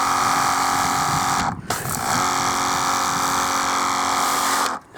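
A rechargeable, foldable Karcher pressure washer running: a loud, steady, close motor whine that briefly dips once, then cuts off at the end, with no speech.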